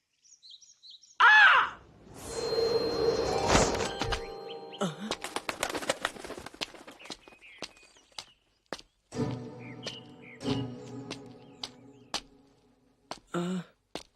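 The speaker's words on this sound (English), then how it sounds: "What's with that bird?" Bird cooing and chirping in the fantasy anime Deltora Quest, a few sharp chirps and coos scattered between louder rustles and movement noises, heard alone without talk.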